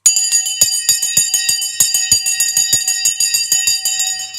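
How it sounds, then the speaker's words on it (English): A stock market closing bell rings in a rapid, steady series of bright metallic strikes, loud and close, continuing for several seconds with no voices. "Let's just ring the bell in 5, 4, 3, 2"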